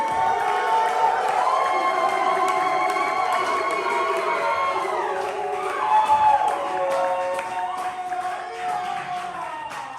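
An audience at a spring poetry slam in Atlanta cheers and shouts for a poet, with whoops and voices rising over a crowd, a swell near the middle, and some scattered clapping underneath.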